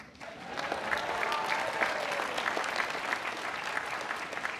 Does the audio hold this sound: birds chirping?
no